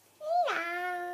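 A young child imitates a cat with a single drawn-out meow, rising then sliding down into a steady tonal tail, close and clear in a quiet room.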